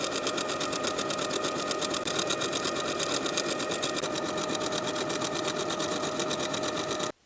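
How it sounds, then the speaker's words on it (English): A sewing machine top stitches a turned dress hem in one steady, rapid mechanical run, loud and close, stopping abruptly at the end. "Then I'll turn that raw edge to the inside by 1/2 inch and top stitch all"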